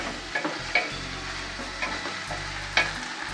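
Carrots frying with onions and peppers in a pan for a borscht dressing sizzle steadily and closely, broken by several light clacks of a spatula stirring; no talking.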